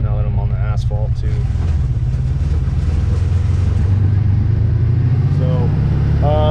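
CFMoto UForce 1000XL UTV engine rumbling steadily in high gear on asphalt, a constant close drone under a man's ongoing speech.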